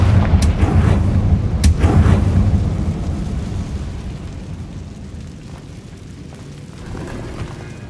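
The Confringo fire spell explodes in Hogwarts Legacy: two sharp, loud booms in quick succession with a rumbling roar that fades slowly over several seconds.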